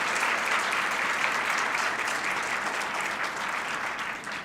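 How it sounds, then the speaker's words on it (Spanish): An audience applauds a minister welcomed as a guest at a panel on Mexico's militarization at the Guadalajara book fair; dense, steady clapping fills the whole stretch, fading slightly at the end, with no voices over it. "Un fuerte aplauso para el ministro."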